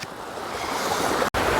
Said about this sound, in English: this is the Tiptoe waterfall